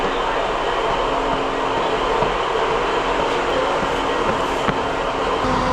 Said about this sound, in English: Nice view of trains, like for instance this one.